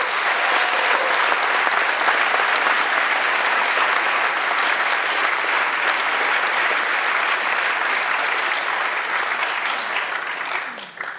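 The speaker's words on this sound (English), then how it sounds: "so give them some applause." Sustained, dense applause from a large graduation audience at an MBA and EMBA ceremony, loud and steady throughout before tapering slightly at the very end.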